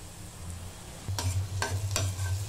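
Onions, capsicum and green chillies fry in a pan with a little ginger-garlic paste, giving a steady close sizzle with a few sharp scraping stirs of a spoon partway through.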